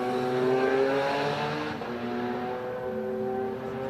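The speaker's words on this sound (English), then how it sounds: "There goes David Meyer off and away in his O'Malley Open Wheel." An O'Malley open-wheel race car launches from the Pikes Peak start line at 9,300 feet, its engine a loud steady roar with a sustained high drone that shifts pitch as it pulls away.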